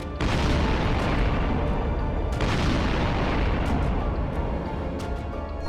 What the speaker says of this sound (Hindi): पहली किरण के साथ ही धमाके शुरू हो जाते हैं, सायरन की आवाज गूंजने लगती है।